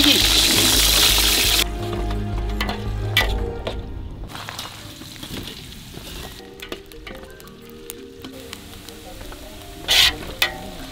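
Garlic hits hot oil with a loud burst of sizzling that fades after a couple of seconds into a quieter crackle, with spatula scrapes and clinks scattered through it and a brief stronger hiss near the end.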